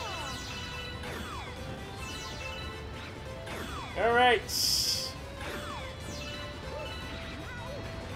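An object shatters with a sharp crash in Super Mario Galaxy, just after the midpoint. It is loud and brief against a background of game music and chimes, and someone speaks briefly.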